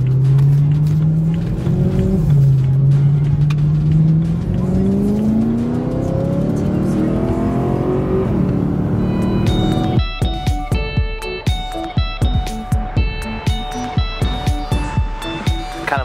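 A car on a long highway drive gives a loud engine drone whose pitch rises and shifts as it accelerates. After about ten seconds, sharp rhythmic knocks and tonal sounds take over in the cabin.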